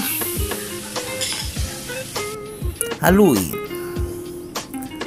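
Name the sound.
stirring bihon noodles frying in a pan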